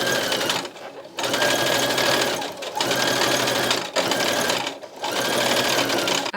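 A sewing machine stitches a line along a trouser waistband, running in four steady, loud bursts of rapid mechanical whirring separated by brief pauses.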